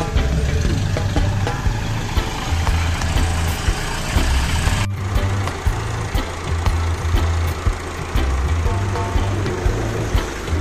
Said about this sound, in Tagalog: Bagong traktora ni Airpac 4708 Massey Ferguson